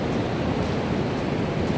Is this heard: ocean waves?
yes